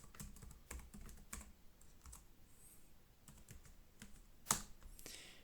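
A password being typed on a computer keyboard: quiet, irregular clusters of key clicks with short pauses between bursts and one sharper keystroke near the end, close up and without talk.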